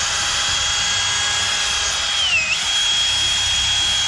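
A diesel-powered drill runs steadily at a ranch truck rescue, a sustained high whine with a brief dip and wobble in pitch partway through before settling back, loud and alone.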